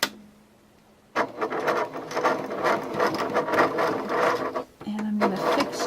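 A sewing machine stitches a cuff onto a dishtowel in a fast, steady whirring burst lasting several seconds after a quiet pause, briefly stopping near the end before running again; the motor's hum sits under the needle's rapid clatter.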